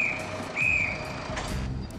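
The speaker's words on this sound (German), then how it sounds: "Zweimal pfeifen bedeutet losfahren." Two short, shrill whistle blasts sound while a Circus Roncalli trailer is being moved during a circus relocation, with low vehicle and yard rumble underneath.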